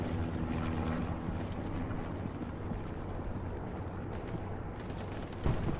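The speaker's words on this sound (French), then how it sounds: "Il y a des tirs depuis le jardin." Gunfire rings out in the WWII shooter game Hell Let Loose during an infantry line battle, with distant shots and bursts over a droning battlefield rumble that sounds like engines.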